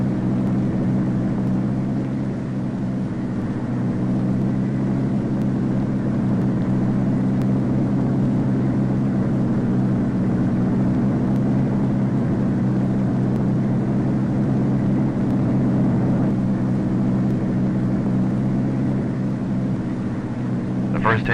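A Convair XF-92 delta wing aircraft takes off on its first flight, its jet engine a steady, loud broadband roar and low rumble that holds evenly throughout, with a narrator's voice speaking over it.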